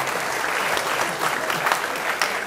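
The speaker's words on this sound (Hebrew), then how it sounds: "תנו לי מחיות כפיים" A crowd at a rabbi's religious lecture gives a steady round of applause, dense continuous clapping held at an even level throughout, with faint voices mixed in.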